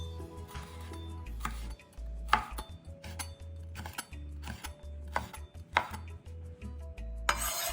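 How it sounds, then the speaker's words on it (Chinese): A knife slices a fresh red chili, halved and seeded, into thin strips on a board, giving a run of short, close, crisp cutting taps at an irregular pace. "对半切开，去籽后再切成丝。"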